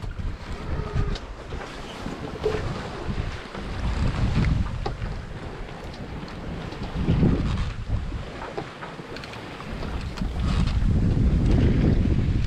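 Wind rushing over a sailboat at sea in light air of about six or seven knots, a steady broadband roar with gusty swells and low buffeting on the microphone, no talk.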